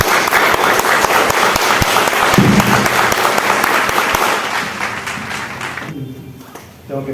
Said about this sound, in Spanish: para quien pido fuertes aplausos.